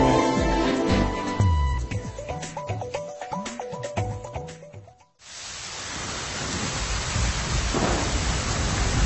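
Heavy rain with a low thunder rumble rises as a steady broadband hiss, following a stretch of music that cuts off midway, and continues loud to the end.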